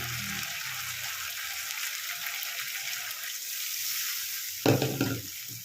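Dry spices and a splash of water hit a hot pan for a fish curry, giving a steady close sizzle, with a brief louder gush of water and spitting near the end.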